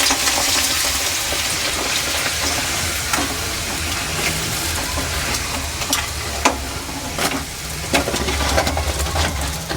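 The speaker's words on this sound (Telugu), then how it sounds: "ఆయిల్ హీట్ అయినాక మనము అప్పడాలు వేయించుకుందాము" Papad dropped into hot oil in a kadai, frying with a loud, continuous crackling sizzle and sharper pops now and then. The sound is close, with no voices.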